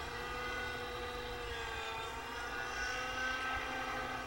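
A radio-controlled helicopter flies an inverted hover in a confined space, giving a steady, loud rotor and engine whine with a constant broadband roar and no talk.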